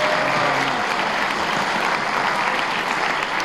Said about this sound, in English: can we get one final round of applause for all of our elected officials that came here today?